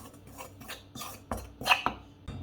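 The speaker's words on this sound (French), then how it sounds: "Voilà, on mélange bien." Flour and yeast being stirred together in a bowl for waffle batter, giving a quiet, irregular series of soft scrapes, taps and light clinks with no voices.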